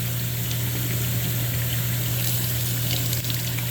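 Hot water runs from a bathroom tap in a steady, close rushing flow with a low hum from the pipes underneath, continuous and unchanging.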